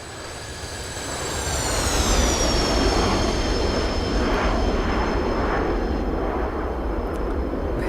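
Boeing 727 airliner landing in the X-Plane flight simulator, its jet engines building into a loud, steady roar with a whining tone that slides downward as the aircraft comes in.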